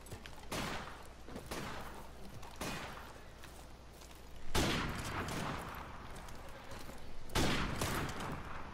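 Gunfire in Modern Warfare Remastered on the Shipment map, with repeated sharp bursts and volleys loud and close, punctuated by heavier blasts around the middle and near the end.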